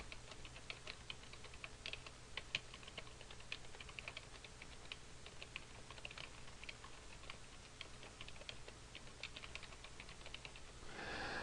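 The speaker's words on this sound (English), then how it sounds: "we want to type Goal." Steady typing on a computer keyboard while entering text into an Excel 2010 spreadsheet: a continuous run of quick, light key clicks, faint and close, with no talking.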